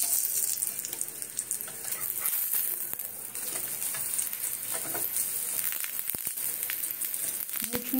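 Mint paratha fries in a pan with a steady, close sizzle as it puffs up, and faint scraping and clatter come through now and then.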